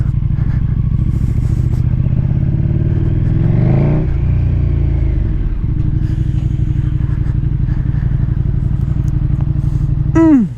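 A 2020 KTM motorcycle engine idles with a loud, steady throb, revs up sharply and falls back, then keeps idling before a final quick rev at the end.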